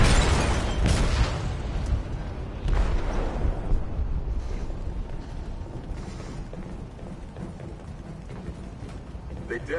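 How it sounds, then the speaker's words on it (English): An explosive detonating in a ship's hold in the video game Detroit: Become Human, heard as a loud booming blast with heavy rumbling bursts that slowly settle into a lower, continuous rumble. "Detonated an explosive in the hold."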